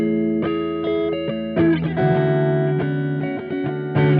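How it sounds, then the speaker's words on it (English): A distorted electric guitar through a UAD Marshall amp simulation plays a short riff of chords and single notes, crunchy and thick with amp-style overdrive. "I crafted this little tone here with this UAD Marshall amp."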